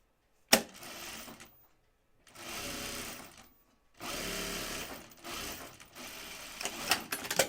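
A sewing machine stitches bag fabric pieces right sides together, running in several close, steady whirring bursts separated by brief silent stops.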